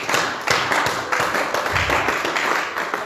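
A church congregation claps and applauds together, a dense, steady patter of hands with rhythmic surges, close and loud throughout.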